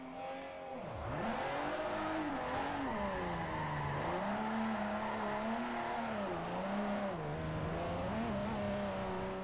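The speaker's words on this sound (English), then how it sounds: "Didn't get that drift very right then." A BMW M3 drifts in the Forza 4 racing game, its engine droning and rising and falling in pitch while the tires squeal in long, wavering howls through most of the run.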